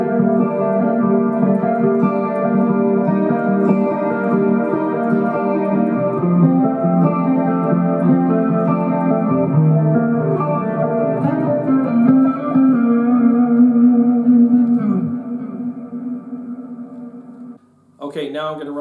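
Clean electric guitar tones played through a Friedman ASC12 speaker cabinet, a sustained chordal passage ringing steadily for about fifteen seconds before fading, with a brief new strum at the end.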